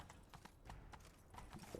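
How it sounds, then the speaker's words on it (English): Rhythmic clopping of horse hooves at a quick gallop in The Witcher 3: Wild Hunt, steady and fairly close, with no voices over it. "Grab a horse, we'll chase him down."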